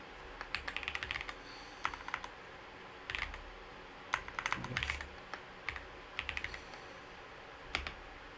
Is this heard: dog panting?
no